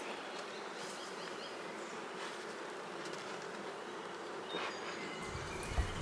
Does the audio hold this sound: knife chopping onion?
no